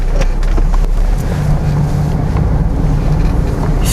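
A 1979 Chevrolet Camaro, all original, pulls away in reverse after starting up, its engine a loud, steady low rumble close to the microphone, with wind buffeting mixed in and no talking.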